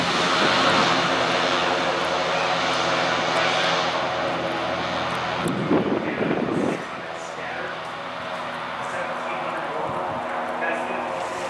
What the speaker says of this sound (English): This is a big Super Cub to be flying in.